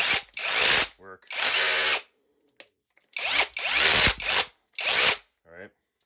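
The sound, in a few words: Bauer 20V cordless SDS-Plus rotary hammer running in trigger mode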